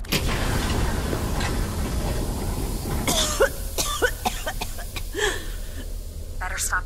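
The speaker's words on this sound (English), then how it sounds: "Better stop coughing." A character coughs repeatedly from smoke in the VR video game Westworld Awakening, several harsh coughs and throat clearing near and loud, with speech following.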